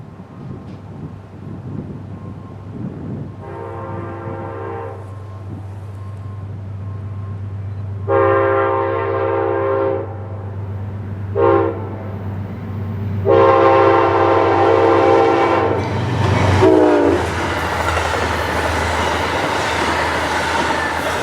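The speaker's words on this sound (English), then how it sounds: "Amtrak 281 speeds west towards Syracuse and Niagara Falls" Amtrak 281, a westbound passenger train on the Mohawk subdivision in upstate New York headed toward Syracuse and Niagara Falls, rumbles past steadily while sounding its horn in several long blasts, the last one loudest as the train nears and passes.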